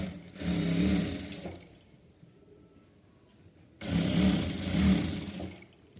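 A sewing machine stitches folded puff sleeve fabric in two steady running bursts, close and fairly loud, separated by a quiet pause.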